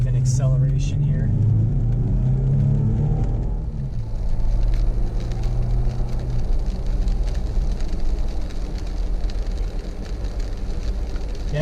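A 2018 Jeep JK Wrangler accelerating from inside the cabin, engine rumble rising into a steady loud road roar, with someone talking over the first few seconds.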